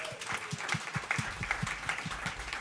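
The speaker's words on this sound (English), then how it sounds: "Can we give a huge round of applause to this amazing venue?" An audience at a live jazz venue gives a round of applause, the clapping steady and moderately loud. A voice briefly sounds underneath.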